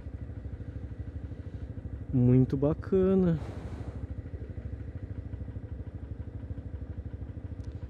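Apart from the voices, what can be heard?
Twister motorcycle with modified exhaust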